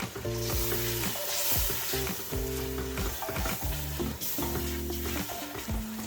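Tomatoes, herbs, chili powder and turmeric for a cauliflower and lamb curry sizzle steadily in a pan, with repeated stirring scrapes and clatters close up throughout, no voices.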